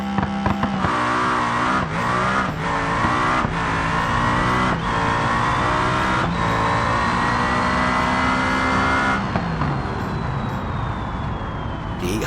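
A turbocharged 4.4-liter V8 nitrous drag car in the BeamNG video game, revving loudly and close in a sustained roar, climbing through a series of sharp gear shifts before easing off toward the end.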